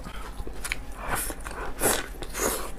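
Close, wet crunchy bites and chewing of lamb intestine at a spicy family mukbang meal, a few distinct crisp bites spaced through the clip with soft mouth sounds between.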